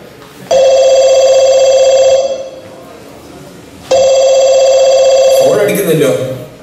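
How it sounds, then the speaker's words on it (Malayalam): A telephone bell rings in two long, loud electronic bursts separated by a pause, on a stage during a youth night skit, with a brief noisy clatter at the end. "ഫോൺ അടിക്കുന്നില്ലോ."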